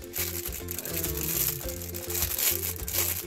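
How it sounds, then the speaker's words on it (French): Plastic packaging from a craft supplies haul crinkles and rustles continuously at close range, crisp crackling mixed with low tonal music in the background, with no speech. "Je vais éviter de faire trop de bruit avec le plastique parce que ça m'énerve"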